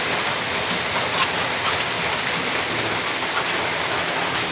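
A steady, heavy rainfall hisses close and loud, a dense, even roar of drops with no voices over it.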